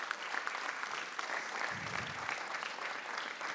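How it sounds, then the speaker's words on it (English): A room full of guests at a community venue event applauds steadily, dense continuous clapping filling the space at a consistent level with no voices over it. "Give them a round of applause for that,"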